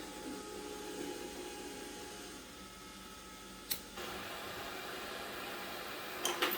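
A gas-flame annealer runs on .308 brass cases in a garage, a steady broadband hiss and whir of burner and motor with a sharp click near four seconds and a few clicks at the end, no talking.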